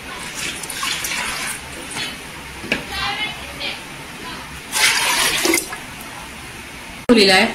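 Water poured into a pressure cooker holding dal, a broad splashing pour in bursts around midway and again near the end, with quieter kitchen noise between.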